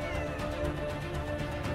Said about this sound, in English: So you can pick up cats